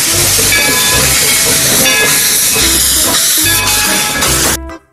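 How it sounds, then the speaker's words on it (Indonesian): A toy train plays a loud electronic steam-train effect, hissing steam with a rhythmic chuffing pulse and whistle-like tones, close by, cutting off abruptly at the end. "Wih, lihat teman-teman, yang ini kereta api."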